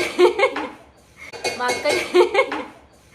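Metal pots and dishes clang deliberately at home during a Sankranti festival, with bright clinking bursts in two clusters while someone talks and laughs over them.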